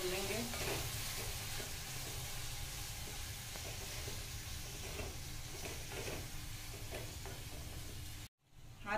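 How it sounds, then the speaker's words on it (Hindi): Steady sizzling and frying of ginger garlic paste in a hot pan with occasional stirring scrapes, continuous and fairly close, cutting off briefly near the end. "अब इसे भी थोड़ा देर हम 1 से 2 मिनट इसमें हम भून लेंगे।"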